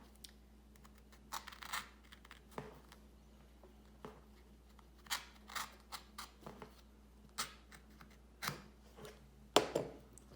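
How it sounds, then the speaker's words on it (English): A craft knife is drawn through fur hide while cutting a moccasin outer shell, giving soft, close, intermittent scratchy cutting strokes and small rasps in a quiet room with no talking. "drag the x-acto knife along the line that you've made."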